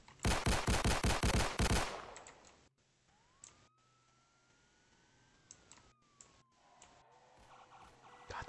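Rapid automatic gunfire bursts loudly in the Mano County Sheriff's police game, a fast close volley lasting about two seconds, followed by quieter game ambience with a faint rising siren-like tone.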